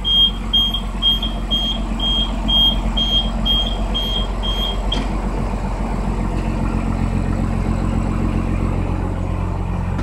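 A Cummins 6BT diesel in a bus runs steadily at idle, a deep continuous rumble heard close up, with a rhythmic high-pitched warning chime repeating for the first half.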